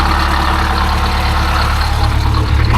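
A Detroit Diesel 8V-71 two-stroke V8, fitted with a new starter, runs steadily at idle, a loud, close, continuous low rumble with a dense buzzing drone and no talk over it.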